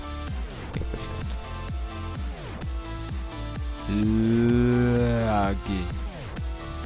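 A low, drawn-out cow moo from a video game swells for about a second over steady background game music with plucked, repeating notes.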